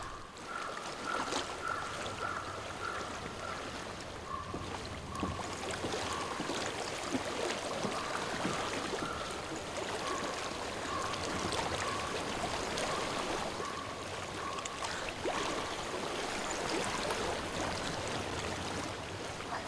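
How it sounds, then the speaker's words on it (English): In the video game Hellblade: Senua's Sacrifice, a flowing stream gives a steady, continuous rush of water that stays fairly soft and unbroken throughout, with no voices. "I hear water."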